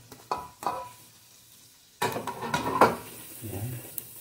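Garlic added to hot oil in a pan for a chicken stew, with a couple of utensil clinks, then a bright sizzle and stirring scrapes close up.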